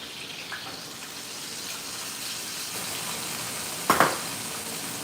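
Beef searing in a hot pan, pressed against the pan edges for an almost Beef Wellington, gives a steady broadband sizzle and hiss throughout, with a brief louder crackle burst near the end.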